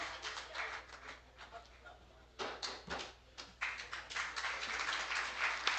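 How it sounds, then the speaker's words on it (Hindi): An audience at an evening poetry gathering (mahfil) in Deoria claps to welcome a poet to the stage, producing dense, uneven applause that swells and dips, with some voices mixed in. "जोरदार ताली से स्वागत किया।"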